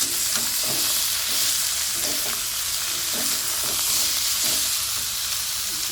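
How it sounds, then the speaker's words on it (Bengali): Chicken fries with lightly browned onions in a home kitchen, a steady, close sizzle broken by rhythmic stirring scrapes about once a second. "পেঁয়াজটা একটু হালকা করে ভেজে নিয়েছে তারপর চিকেনটা দিয়ে দিয়েছে তো চিকেনটাও ভেজে নেবে"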